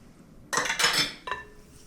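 A beaten egg is mixed into bread batter for a cheese casserole loaf, heard as a few quick, close clinks and scrapes of a utensil against a bowl in short bursts, with near silence between them.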